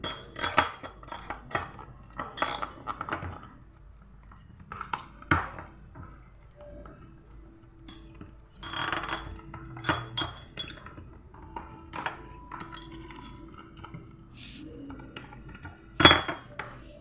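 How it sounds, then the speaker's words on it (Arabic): A metal spoon stirs red tahini and food is scraped into a bowl, giving quiet, irregular clinks and scrapes of cutlery against dishes throughout. "وافضل بقى اقلب اقلب اقلب اقلب اقلب واقوم حاطاه في البوله"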